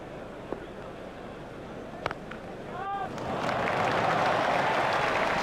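Video game cricket crowd from EA Sports Cricket 2002 swelling into loud cheering after a four, building from a quieter murmur into a sustained roar, with a commentator speaking over it.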